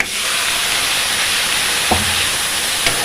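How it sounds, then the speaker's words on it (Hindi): Tomatoes go into hot oil with crackling cumin tempering, giving a loud continuous sizzle and hiss with a couple of brief clinks, no voices. "तो यहाँ पर जीरा जब क्रैकल हो गया है तो फिर इसमें हम टमाटर डालेंगे।"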